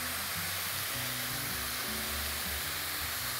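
Ghee sizzles in a pan beside zucchini and meat rolls, a steady broadband frying hiss with low rumbling hum underneath, continuous and fairly quiet with no talking.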